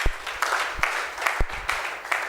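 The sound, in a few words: audience applauding at an event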